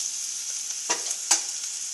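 Sliced onions sautéing in a pan for chicken biryani, heard as a soft, continuous sizzle with two brief stirring scrapes close by.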